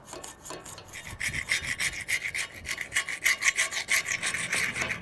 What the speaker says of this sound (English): Once the paint kind of stops coming off with the scraper, you can move on to the next spot